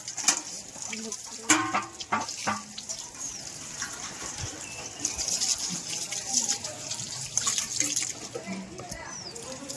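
Tap water runs during a school handwashing demonstration at Pragat Vidyamandir, Ramgad, Malvan, a steady splashing stream under children's and an adult's voices, with faint birdsong in the background.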